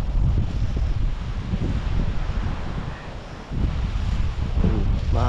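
Strong wind blows along a seashore where waves roll in near beached boats, a steady rushing roar buffeting the microphone with a brief lull in the middle, with faint voices near the end.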